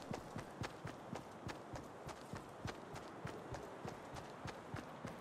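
Quick, even footsteps of a player character in Fortnite, tapping at a steady jogging pace, close but fairly soft over a constant background hiss.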